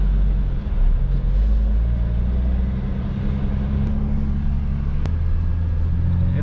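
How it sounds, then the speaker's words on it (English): Lexus IS300 car on a test drive, its steady low engine rumble and road noise filling the cabin throughout, loud and continuous with no talking. "let's go on a mini little test drive"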